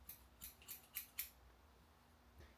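Scissors snipping hair close to the ear: five quick, crisp cuts in a brisk rhythm, then a pause and one last faint snip, quiet and near.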